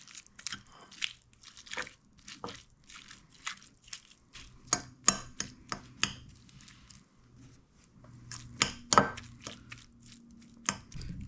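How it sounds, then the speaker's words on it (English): Cooked spicy salmon broken into small pieces with a fork, giving quiet, close, irregular scraping clicks and soft mashing taps against the dish, clustering in short bursts with pauses between. "Just take the fork. Just break it down to small pieces."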